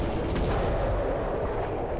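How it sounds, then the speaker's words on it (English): Dense, booming gunfire from the Call of Cthulhu video game, a continuous loud roar of shots packed close together with no pauses. "Yeah, I shot him 4 times now?"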